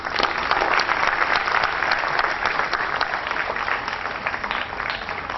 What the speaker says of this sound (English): all of us should give them a big round of applause